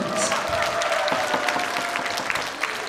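A crowd claps steadily and fairly loudly, a dense patter of applause with no talking over it.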